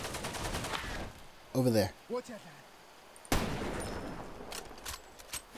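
Enemy gunfire in the first-person shooter Far Cry 2, a burst of rapid shots at the start and a loud sharp blast later, with someone talking briefly between them.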